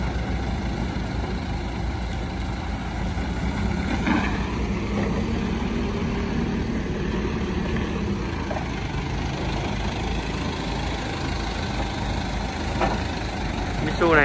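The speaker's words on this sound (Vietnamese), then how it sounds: "Cái này số sàn, động cơ F4S." A used Mitsubishi 3-ton manual forklift with an F4S engine idles in a steady, close drone, with a few faint clanks over the top and someone talking at times.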